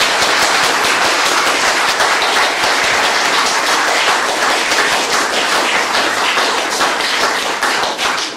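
Dense, loud applause from an outdoor concert audience for a pianist after a Chopin and Ravel recital, sustained at an even level with no voices.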